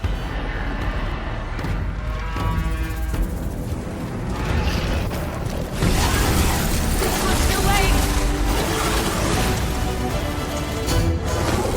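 A machine called in by a device in Horizon Forbidden West arrives amid loud, dense mechanical clanking and rumbling booms, the din growing heavier partway through and running continuously to the end.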